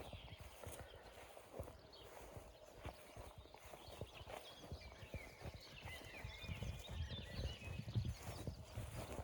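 Hooves clip-clop steadily on the ground as a horse walks nearby, with birds chirping faintly in the background.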